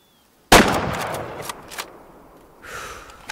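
A single sharp hunting rifle shot at a fox in the Way of the Hunter game, loud and close, cracking out of silence and then echoing away over a couple of seconds.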